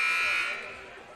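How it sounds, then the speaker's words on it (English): A basketball game buzzer at a girls' varsity high school game sounds one loud, sustained electronic tone that fades over about a second, ringing through the gym. "The buzzer sounded"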